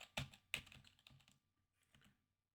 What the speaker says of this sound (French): Pour cela, on va juste écrire Pierre